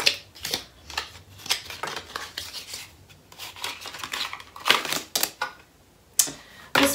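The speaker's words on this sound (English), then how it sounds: "Let's pull a couple romance cards." Tarot cards are pulled, shuffled and handled, giving a string of soft papery flicks, slaps and rustles in irregular bursts, close and fairly quiet.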